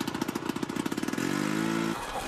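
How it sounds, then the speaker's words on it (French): A flooded engine in a cartoon sputters in rapid, fast pulsing bursts, then settles into a brief steady drone before cutting out; close and fairly quiet, with no talk. "On dirait que votre moteur est noyé."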